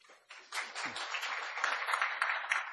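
Audience applause welcoming a speaker at a financial IT conference, a steady wash of clapping that builds after a brief pause and carries on, fairly soft and distant.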